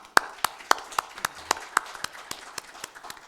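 A single speaker at a security industry conference claps on stage: about a dozen crisp, evenly spaced claps in a steady rhythm that softens slightly toward the end.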